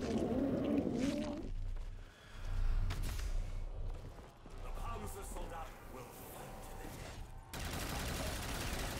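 Gunfire from an upgraded weapon in the Black Ops 3 zombies game on the Revelations map: bursts of rapid shots and game effects with brief gaps, while French-speaking players talk over the action.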